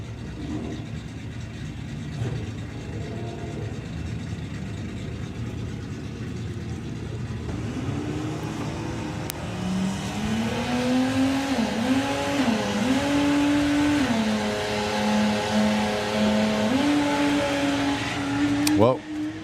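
VW drag cars at a Bug Jam qualifying round, including a Lupo and an altered, rumble and rev on the line, a steady engine drone rising into a wavering high rev as they launch.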